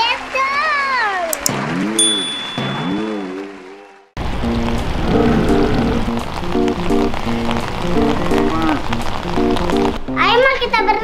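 Rain pours down on a livestock area where sacrificial cows stand in the open and a tarp tent is being put up. A steady wash of rain fills most of the clip, and children's voices talk over it at the start and end.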